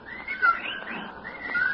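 Birds chirp and whistle in a horror radio drama, giving short repeated calls that rise and fall over a quiet background, fairly close and without any voices.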